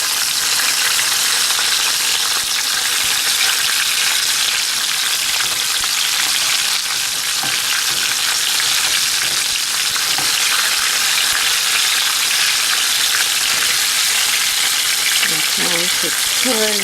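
Oxtails browning in a hot pan give off a loud, constant sizzle, with a few scrapes and stirring sounds near the end as the pieces are turned.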